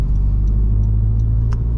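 A Honda Civic Type R FK2 engine on a lap of the Nürburgring, heard as a steady, loud, low rumbling drone from inside the car, with a faint ticking above it.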